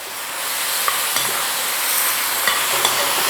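Pork spare ribs sizzle in a hot pan with soy sauce as they are stirred, a loud continuous frying hiss broken by a few soft utensil scrapes and clicks, with no voices.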